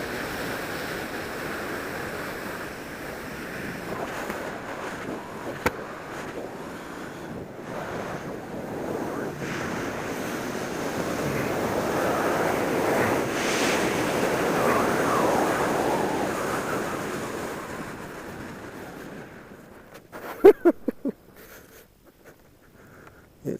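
Strong wind roaring past a skydiver descending under a parachute canopy on a high-wind day, a continuous buffeting rush swelling midway, then fading into brief fabric flaps and rustles.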